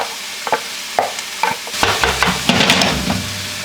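Food browning in a hot pan, an irregular sizzle broken by clacks and scrapes of stirring that grow busier and louder toward the end, without speech.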